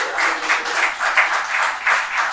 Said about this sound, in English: Yo, get that round of applause.